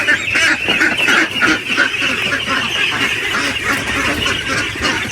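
A crowd of ducks quacks loudly and continuously at close range while they are being fed, with dense overlapping calls and no talking.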